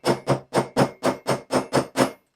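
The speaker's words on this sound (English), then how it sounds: "use a hammer" A hammer taps glued leather edges eight times in an even, quick rhythm, each strike sharp, close and clear with silence between.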